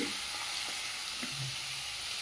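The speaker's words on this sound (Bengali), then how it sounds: "মূলো বেগুন দিয়ে দিলাম। এটা একটু ভাজা ভাজা হলে মশলা দেবো।" Radish and eggplant pieces fry in a hot pan with a steady, dense sizzle that stays even and close throughout, with a few faint pops and no voices.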